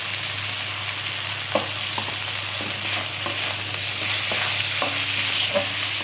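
Spices and turmeric, added just after leaves, stir-fried in a pan for a Bengali fesa (anchovy) fish curry, with a steady sizzle of frying and repeated scrapes and clinks of a spatula against the pan.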